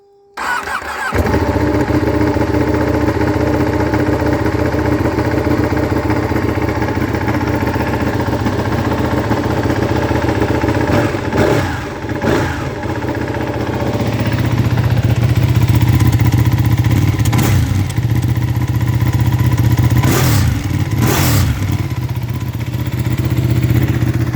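A Ducati 1299 Panigale R Final Edition, a Euro 4 bike with a large catalytic converter, starts, settles into a loud steady idle and gets a few sharp revs, up close and alone.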